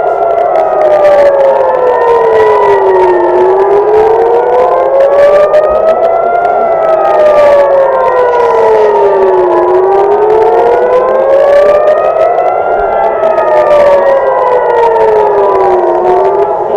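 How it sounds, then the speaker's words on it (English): Civil defense air raid sirens in Israel rise and fall loudly in overlapping slow wails, several sirens sweeping out of step with one another, continuous throughout. "There's still cars driving around on the road, even though the sirens are going."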